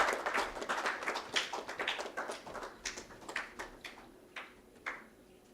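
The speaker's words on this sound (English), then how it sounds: "Can we have a huge round of applause for Ashok Motwani ji?" Audience applause at a global ESG summit in honour of a guest speaker, a dense burst of many hands clapping that thins toward the end into scattered individual claps.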